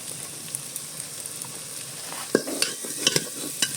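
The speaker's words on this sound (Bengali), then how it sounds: "বেশ কিছুক্ষণ ধরে মশলাটাকে আমি কষে নিয়েছি।" Spiced masala frying and being stirred in a pan, a soft sizzle broken by several quick spoon scrapes and taps.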